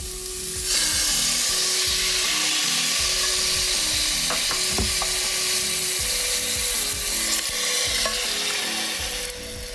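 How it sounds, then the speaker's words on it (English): Canned tomatoes tipped into a hot pot of toasted chili ingredients, a loud hissing sizzle that fills the sound, with rhythmic scraping and clacking of a spoon stirring against the pot throughout. "we're gonna go ahead and throw in a couple cans of tomatoes"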